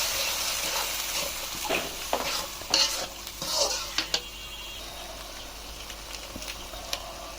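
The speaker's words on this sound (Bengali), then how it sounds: "তো এই জন্য আমি পেঁয়াজগুলো ভেজে নিচ্ছি" Onions with ginger-garlic paste, turmeric, chilli, coriander powder and salt fry in a pan, stirred with a utensil that scrapes and clatters in bursts over a steady sizzle, close and fairly loud, fading to a softer hiss.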